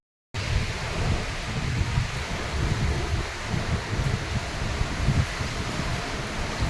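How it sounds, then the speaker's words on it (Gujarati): Strong wind and heavy rain batter a terrace in a steady, dense broadband roar with low gusty rumbling, close and continuous throughout, with no voices. "ફૂલ પવન અને વરસાદ"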